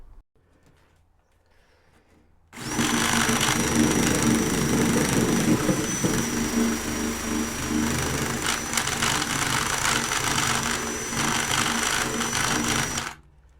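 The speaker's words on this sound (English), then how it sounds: "the tiniest little lick of the wheel, and it's just ripping the surface rust off" Wire wheel on a power tool stripping surface rust from the metal floor of a 1971 VW bus: after a quiet start the tool whirs up abruptly into a loud, steady grinding buzz with scratchy rasp, then cuts off near the end.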